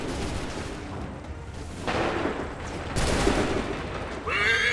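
Musket volley gunfire in Assassin's Creed 3 video game, heard as bursts of massed rifle shots that swell at about two and three seconds, mid-distance and dense, over a continuous battlefield din.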